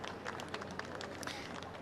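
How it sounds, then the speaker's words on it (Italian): A crowd in the square at Vittorio Veneto applauds the President: dense, continuous clapping, faint and distant, with a murmur of voices mixed in. "Sentiamo i vittoriesi che applaudono"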